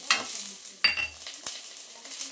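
Chilli, coriander and mutton masala powders fry in a pan for mutton sambar, with soft sizzling and a few sharp spoon scrapes and clinks against the vessel.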